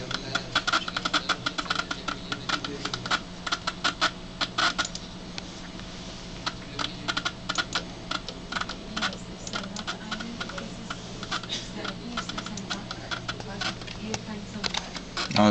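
Typing on a USB computer keyboard connected to an OMAP Zoom2 board, a steady run of quick clicking keystrokes, close and continuous, with a constant background hum and talk running through it.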